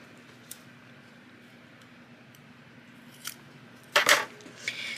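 Scissors snip paper during a paper-crafting session, with a faint click early, a brief cut near the middle and a sharper, louder double snip toward the end, close and without speech.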